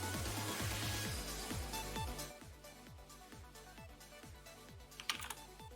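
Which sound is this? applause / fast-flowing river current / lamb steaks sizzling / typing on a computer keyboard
typing on a computer keyboard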